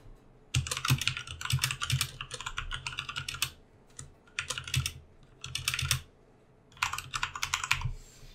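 Rapid typing on a Corsair K65 RGB mechanical keyboard with Cherry MX Red switches, close and crisp, in bursts of clattering keystrokes separated by short pauses.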